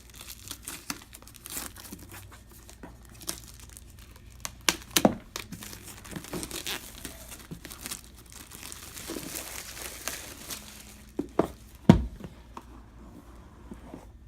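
Plastic wrap and cardboard packaging crinkle and tear as a board game box is opened, with close rustling and a few sharper tearing bursts, no talking.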